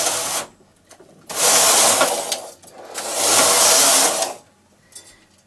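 A Singer knitting machine's lace carriage is pushed across the bed in two loud, sustained sweeps, each a rushing mechanical rasp, separated by a brief quiet and trailing off with faint clicks.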